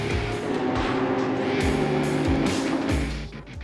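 BMW M4 GT3 race car lapping at Mugello during an endurance race, its engine roaring loudly with quick revs and repeated downshifts as it passes close by.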